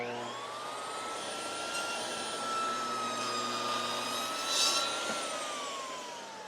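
A table saw rips a thin strip of wood guided by a GRR-RIPPER push block, with a loud, steady high-pitched motor whine that sustains through the cut and rises briefly near the end.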